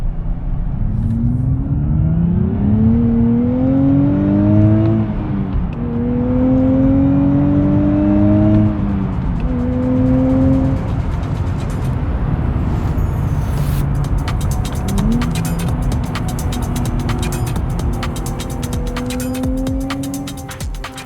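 A 2023 Nissan Z with the performance pack and turbocharged engine pulls hard under acceleration from inside the car, its engine note climbing in repeated rising sweeps through the gears, loud and continuous with no talking.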